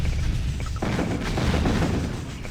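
Heavy bombing explosions in Command & Conquer: Tiberian Sun Firestorm, a dense, continuous rumble of booms and blasts filling the whole stretch with no pauses.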